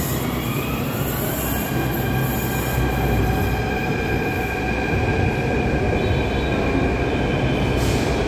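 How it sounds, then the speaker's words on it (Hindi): A metro train pulls into a station in India, its steady wheel rumble and rail squeal loud and close for the whole stretch, with no talk over it. "मेट्रो आ गई।"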